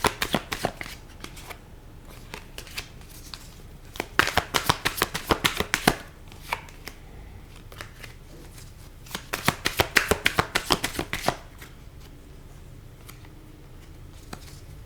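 Tarot cards shuffled by hand in two bursts of rapid riffling flutter, close and crisp, separated by quieter handling and a pause, with no talking.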